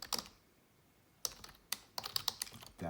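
Keystrokes on a computer keyboard as a command is typed: a short burst, a pause, then scattered and quickened clicking taps, close and clear with no talk.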